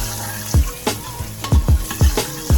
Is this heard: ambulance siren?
no